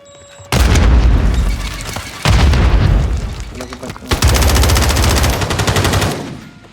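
A Call of Duty Resurgence match on Rebirth Island: loud bursts of rapid gunfire and booming blasts come in three long stretches separated by brief lulls, close and dense, with a grenade explosion among them.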